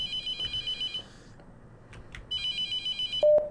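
A telephone rings in the horror game The Mortuary Assistant, with repeated electronic trills in two bursts separated by a short pause and a closing beep, close and clear with no talking.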